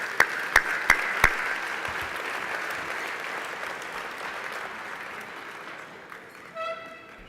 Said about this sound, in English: a round of applause for our board